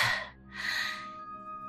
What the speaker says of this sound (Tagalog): Grabe ang hingal na nararamdaman ko ngayon Para akong mapuputulan ng paghinga.